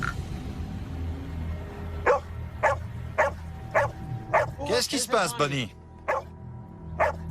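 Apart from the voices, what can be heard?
dog barking as if threatened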